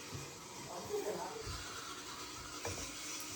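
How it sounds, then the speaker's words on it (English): Sugar, salt and water stirred in a pot over a medium flame on the stove, a steady quiet scraping with faint hiss, low and continuous, with a murmur of voice mixed in. "Now we have to put it on the stove, put it on medium flame, and stir it until it dissolves"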